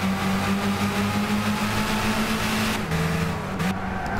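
A car engine in Gran Turismo 6 holds a loud steady drone at high revs, the pitch climbing slightly before briefly dropping as it shifts up.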